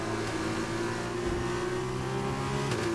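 An F2 race car engine screams at high revs around the Jeddah circuit in Saudi Arabia in a racing game, a steady loud whine with shifting harmonic pitch throughout, no talk.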